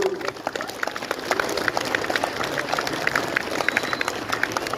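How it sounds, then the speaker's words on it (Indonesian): Applause for educators at a National Teachers' Day ceremony, a fairly faint, steady patter of many hands clapping that continues for several seconds with no talk. "Sekali lagi tepuk tangan untuk para pendidik."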